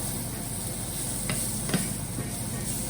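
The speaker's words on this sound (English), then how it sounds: "Just let that fry off for a little while." Vegetable curry base fries in a pan with a loud, dense, continuous sizzle and hiss, marked by a couple of faint taps, close up with no talking.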